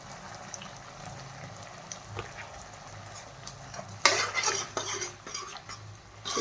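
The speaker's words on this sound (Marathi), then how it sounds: "व्यवस्थित मिक्स करून घेणार आहोत आपण हे." A spoon stirs tomato ketchup through veg Manchurian in a pan, with soft scraping and a low sizzle that grows into louder, busier clinking and scraping toward the end. No one speaks.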